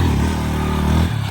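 A motorcycle engine holds a loud, close, steady rev during wheelie practice, its drone shifting pitch slightly before dropping near the end of a brief burst.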